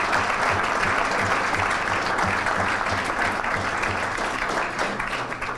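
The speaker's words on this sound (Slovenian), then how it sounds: "Lahko ploskate." An audience at a political youth congress applauds, producing dense, continuous clapping that stays loud and even throughout the hall.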